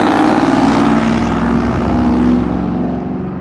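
A loud vehicle drones past close by, its engine rumble and a throaty crackling exhaust holding steady before fading as it moves away, heard outdoors with no talk.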